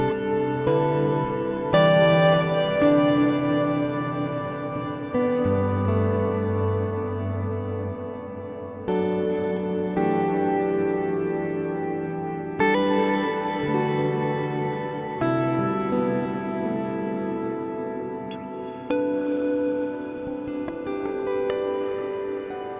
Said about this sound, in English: Blending that sort of delay reverb boundary by having sort of delay with really diffused repeats